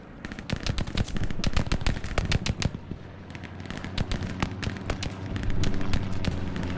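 Gunfire in the World War II shooter Hell Let Loose: dense bursts of sharp automatic shots and single cracks overlapping in rapid irregular volleys, loud and continuous throughout with a low battlefield rumble beneath.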